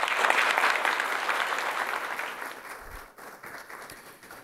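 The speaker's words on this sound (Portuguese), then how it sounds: "uma salva de palmas para recebê-lo" An audience at a solar energy industry meeting applauds to welcome a speaker to the stage, a dense, steady round of clapping that gradually fades toward the end.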